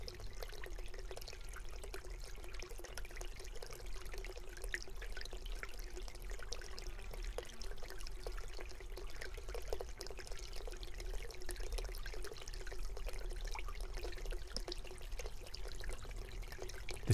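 Water from a stream flows and trickles steadily over rough black rocks, a continuous close babbling wash with no voices.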